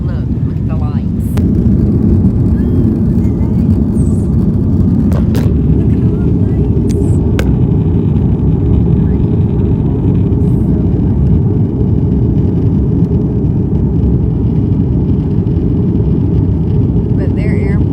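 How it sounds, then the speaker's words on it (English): Inside an airliner cabin during a bumpy takeoff and climb, a loud, steady engine roar and rumble fills the whole span, with a few faint clicks and rattles on top. "A very bumpy takeoff."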